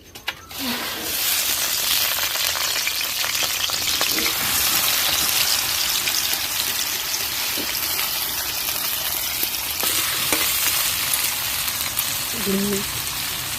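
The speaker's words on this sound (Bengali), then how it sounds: "তেলটা গরম হয়ে গেলে প্রথমে আলুটা ভেজে নেবো লাল লাল করে" Potatoes sizzle and fry steadily in hot mustard oil, a continuous close crackling hiss that carries on without a break from start to finish, with a few faint clinks of a utensil against the pan.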